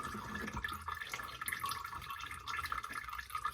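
Rear differential fluid from a Honda CR-V drains out of the fill hole and splashes onto a floor, a steady trickling, dripping stream heard up close with no voices.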